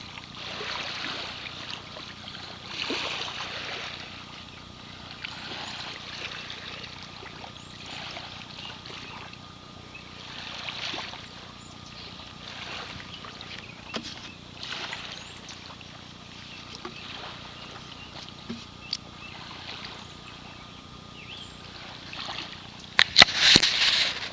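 Water trickles and splashes over a honeycomb coral rock from the southeastern Wisconsin shore of Lake Michigan, a soft, steady pouring wash with a few sharper clatters near the end.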